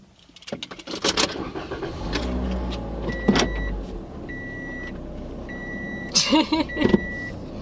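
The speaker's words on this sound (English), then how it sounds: "this is how fast it takes me to start my car and go" A BMW diesel car being started: key jangles and clicks, then an engine rumble turning over, with electronic chimes and beeps repeating over the idle, close and moderately loud.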